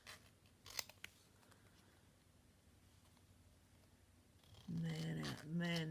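Scissors snip paper for altered crafts such as envelopes and cards, a few crisp cuts close by early on, followed by a quiet stretch and then a person talking.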